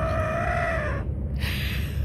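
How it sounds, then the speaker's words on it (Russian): A white rooster crows nearby in a loud drawn-out call that breaks off partway, followed by a shorter high cry, with a steady background hum and no speech. "Здесь даже петух белый есть."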